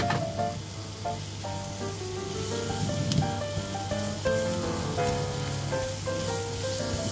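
Vegetables, including green onion, onion and garlic chives, are stir-fried in a hot pan for curry-flavoured liver, with a loud steady sizzle and occasional stirring scrapes under tonal background music.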